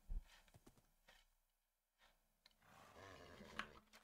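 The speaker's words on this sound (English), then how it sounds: "Horse is always good. And let's try to tame him." A horse in the Minecraft modpack GregTech: New Horizons makes snorting, whinnying game sounds, a few close bursts separated by a brief silence, followed by a louder rough breathy call.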